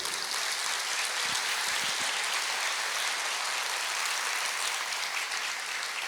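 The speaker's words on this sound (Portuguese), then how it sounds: "Pode aplaudir assim." A church audience claps steadily for several seconds, a continuous even wash of many hands at moderate distance, fairly soft, with no talking over it.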